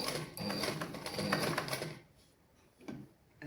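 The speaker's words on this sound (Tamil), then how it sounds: "அந்த ஒவ்வொரு வளைவு பகுதியிலையும் நாங்கள் மெதுவாக இந்த ப்ரெஷர் புட்டை தூக்கி கொண்டு தைக்க வேணும்" A sewing machine stitches slowly around a curved edge, its rapid rattling close for about two seconds before fading into quiet handling noises and a brief clatter.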